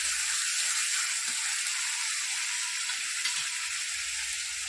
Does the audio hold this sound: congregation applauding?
no